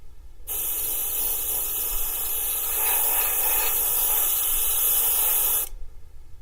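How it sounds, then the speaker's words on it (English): A spray paint can hisses in one continuous spray for UV body painting, lasting about five seconds, close and steady, with quiet before and after. "I'm just going to spray up into that one corner"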